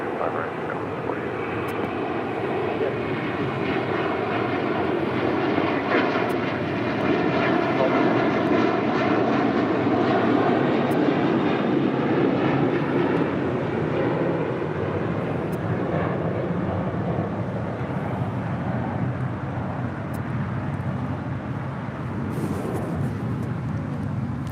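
An airliner takes off from runway 25 right at LAX, its engines a loud sustained roar heard from a distance that swells and holds, with brief radio chatter.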